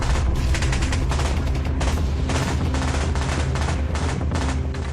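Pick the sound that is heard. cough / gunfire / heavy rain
gunfire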